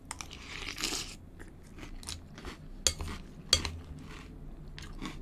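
Crunchy cereal chewed up close, with steady crisp munching and a couple of sharp spoon-on-bowl clinks, quiet and alone without talk.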